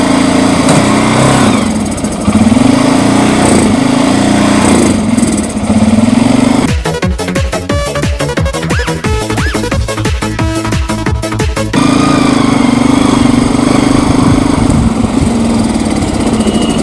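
A motorcycle engine with water in the petrol and carburetor runs loudly up close, a steady rough chug that shifts midway into a faster, harsher stuttering rhythm before settling back to an uneven idle.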